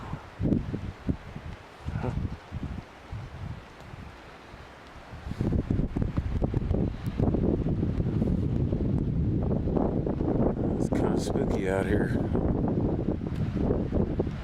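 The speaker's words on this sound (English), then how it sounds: "Windy too." Gusty wind buffets the microphone outdoors, rumbling low and strengthening into a steady roar after a brief spoken remark early on.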